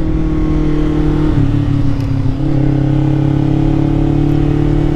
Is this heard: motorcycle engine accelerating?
yes